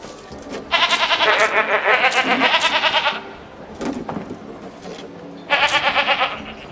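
Goats bleating in the video game Anno 1800, a loud wavering chorus of bleats heard in two long bursts with a brief quieter gap between, plus a short low sound in the middle.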